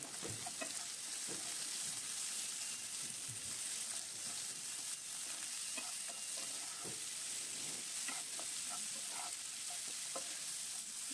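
Flat beans with garlic fry quietly in a pan, a faint steady sizzle under intermittent soft scrapes and taps of a spatula stirring, heard close with no speech.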